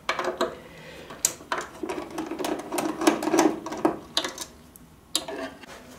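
Screws are worked out of the stand of a ViewSonic VX900 monitor, giving close, irregular metallic clicks, taps and scraping handling noises, with a short whirring stretch in the middle and no speech.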